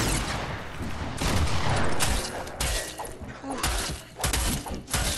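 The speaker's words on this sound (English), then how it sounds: "God, the shotgun sucks." Shotgun blasts and other gunfire in Fortnite, several loud, close shots with crashing impacts in an uneven sequence, dense and chaotic throughout.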